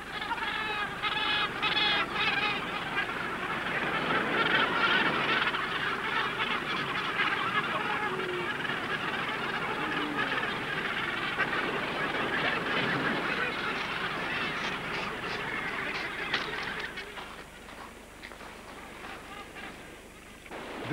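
Northern gannets at a crowded island breeding colony keep up a dense, continuous din of harsh calls layered together, loud and steady for most of the stretch before easing slightly near the end; no voices.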